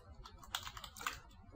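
Quick burst of computer keyboard typing, a handful of light close key clicks over about a second and a half as a command is entered, with no speech.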